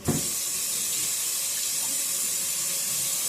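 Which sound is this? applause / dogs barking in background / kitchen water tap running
kitchen water tap running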